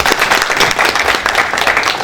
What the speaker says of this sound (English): Let us give another round of applause.